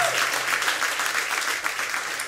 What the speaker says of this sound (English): let's give them a round of applause for keeping this place open.